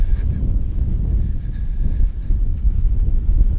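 Wind gusting across open moorland on Dartmoor, a loud low rumble buffeting the microphone continuously with no other sounds.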